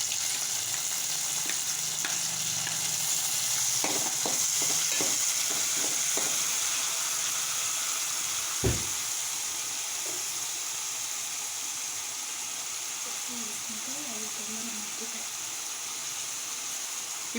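Onions and tomatoes frying in a pan on a gas stove for an eggplant tomato curry, a steady loud sizzle with scraping stirs and a sharp clack of the spoon midway, no talk.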